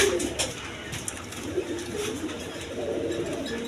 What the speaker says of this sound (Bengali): দেখেন এই কোয়ালিটি কবুতর।